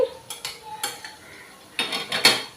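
Capsicum and tomato frying in a pan while being stirred, heard as a few short metallic scrapes and clinks of a spoon against the pan over a faint sizzle.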